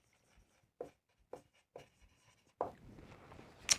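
A pen or marker writing figures during an accountancy lesson: a few separate short scratchy strokes, then a longer stretch of continuous scribbling ending in a sharper stroke. Close and quiet, with no talking.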